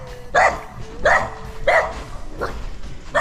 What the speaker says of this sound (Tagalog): So may aso.